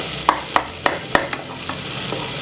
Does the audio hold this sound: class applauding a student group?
no